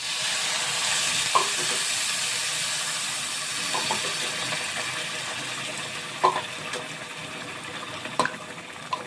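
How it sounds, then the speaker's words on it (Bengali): Hot water goes into a pot of shyama rice and lentils for a fasting-day khichdi, producing a continuous hissing, bubbling wash of sound with a few brief clinks and knocks, no voices present. "ওখান থেকে আমি গরম জল দিয়ে দিচ্ছি"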